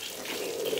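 Water sprays in a steady hissing rush onto a 2010 Fiat Palio during washing, close and continuous for under a second, with no talking.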